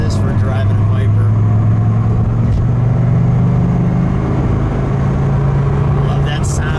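A red 1997 Dodge Viper GTS V10 with a six-speed drones steadily while driving, a loud, continuous low engine hum throughout with a brief spike mid-way, and a voice talking over it.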